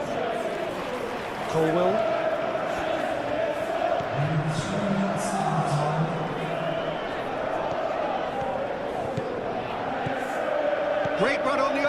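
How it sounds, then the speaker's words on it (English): A stadium crowd at a Chelsea versus Barcelona Champions League match in PES 21 keeps up a steady roar and murmur throughout, under a commentator's voice. "the crowd are reacting to that now"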